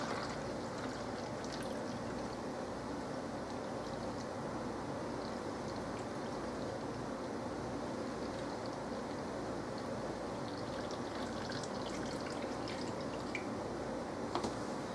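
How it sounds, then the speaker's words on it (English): Tap water runs into a bottle for a garden mix, a steady close rushing splash that holds evenly throughout with no voice. "and I just use my tap water for this. I'm just going to fill this bottle."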